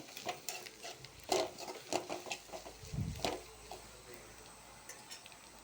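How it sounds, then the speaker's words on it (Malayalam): A spoon scrapes and clinks against a pan as coriander powder is stirred and roasted, with soft, irregular scraping strokes and a few louder knocks close by, no talking. "ഇനി നമുക്കിതിലേക്ക് മല്ലിപ്പൊടി ചേർത്ത് കൊടുക്കാം നന്നായിട്ട് ഇളക്കി മിക്സ് ചെയ്തെടുക്കാം"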